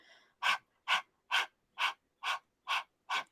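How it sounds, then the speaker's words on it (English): Seven evenly spaced, sharp breathy exhalations in a dog-like panting rhythm make up a breathing exercise, each puff close and distinct, with silence between them. "So if we're panting like a dog"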